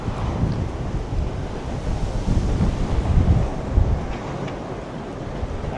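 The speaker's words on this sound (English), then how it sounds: "Oh, so windy." Strong wind buffets the microphone on a Tokyo street walk near Ochanomizu Station, a steady low roar with gusty surges, loud and continuous throughout with no voices.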